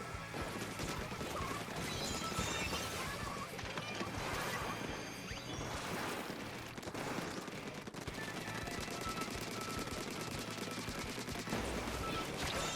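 Busy gunfire and splattering shots in a Splatoon 3 online match, dense and continuous throughout with crashes and impacts layered over game music, with no clear breaks.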